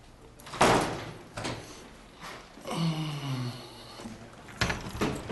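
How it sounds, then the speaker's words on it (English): A door is opened outside a courthouse in Barstow, with a sharp bang, then a scraping slide and another thud; people talk briefly nearby. "I was opening the door for you."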